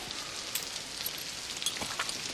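Rain from a war film drama falls in a steady, soft hiss of drops on surfaces, with scattered brighter spatters, fairly faint and without talk.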